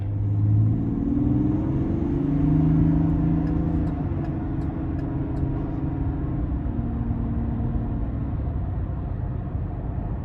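Inside a 2022 GMC Sierra 1500 Limited SLT pickup with a Duramax turbo diesel engine, a steady low rumble from the engine and road carries on evenly while the truck drives, with no voices.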